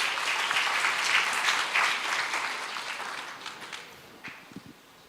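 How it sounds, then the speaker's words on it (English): Audience applause for a speaker invited onto a stage at a science pitch event, a dense wash of many hands clapping that swells early, then gradually thins and fades over several seconds. "please give a big applause for Mr. Hendy."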